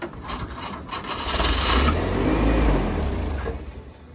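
A Jeep engine runs close by, a low rumbling idle that swells and rises in the middle and then eases back, with scraping rattles over the top and no talking.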